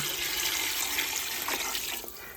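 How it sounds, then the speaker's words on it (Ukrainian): Water pours steadily into a large soup pot with bones and meat for borscht, a close, loud splashing gush that eases off near the end. "Заливаємо це все водою."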